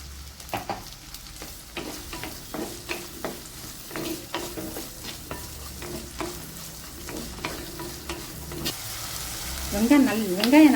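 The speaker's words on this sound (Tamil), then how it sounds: "ஒரு 3 நிமிஷம் நல்லா வதங்கட்டும் வெங்காயம்." Onions and garlic sauté in a pan for a Madurai-style chicken uppu kari, a steady close sizzle broken by repeated stirring scrapes, with a louder burst of frying near the end.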